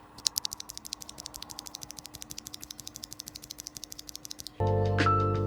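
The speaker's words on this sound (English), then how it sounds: "Let's take a listen to the switch here." A mechanical keyboard switch on an Attack Shark X75 keyboard is pressed over and over in a rapid, even rhythm of sharp clicks, close up, before a sustained tone abruptly takes over.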